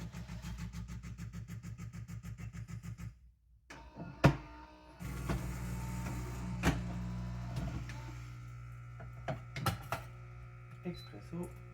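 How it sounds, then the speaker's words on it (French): A De'Longhi La Specialista Arte espresso machine runs its rinse cycle with a steady, pulsing pump drone, which stops briefly and then resumes alongside scattered clicks and clunks nearby. "De ce côté-ci, la machine est toujours en mode rinçage."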